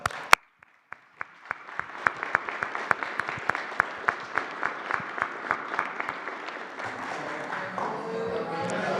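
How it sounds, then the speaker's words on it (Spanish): Applause builds from scattered individual claps into steady rhythmic clapping from a group at a press conference, growing denser toward the end. "Un aplauso."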